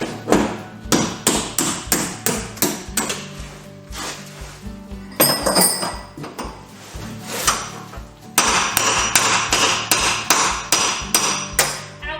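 Rapid metallic hammer strikes ring out in bursts, sharp and close, while loosening a driver's seat inside a school bus, with brief pauses between runs of blows and no talking.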